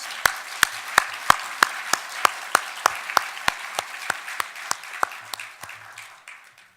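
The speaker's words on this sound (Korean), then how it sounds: "하나님께 영광의 박수를 올려드리겠습니다." A church congregation in Bucheon claps in a steady, distinct rhythm during Sunday worship, each crisp clap standing out clearly, close and fairly loud, slowing and fading toward the end.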